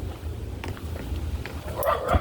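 A dog gives a few short barks and yips amid low background rumble, the sounds growing louder and closer toward the end.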